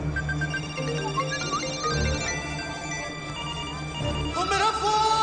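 A phone ringing with a repeating electronic ringtone melody over a low background hum, steady and fairly loud, with a brighter burst of tones near the end.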